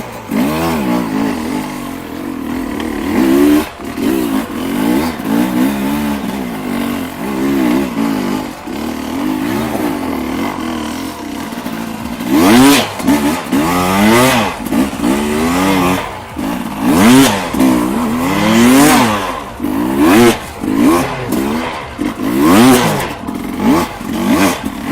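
A dirt bike running 15 PSI in an ultra heavy duty tube rides slowly over loamy soil, the engine burbling and revving in repeated low-speed throttle blips with some clatter, loud and close throughout.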